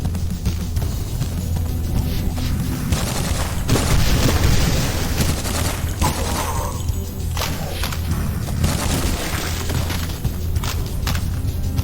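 A Sten submachine gun fires in the retro horror shooter Cultic. Dense, continuous bursts of thumping shots keep the level loud throughout.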